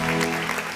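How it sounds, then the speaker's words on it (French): A studio audience on a French-speaking game show applauds, a dense, steady clatter of clapping through the whole brief moment. "on applaudit pour elle parce qu'elle va avoir son bac"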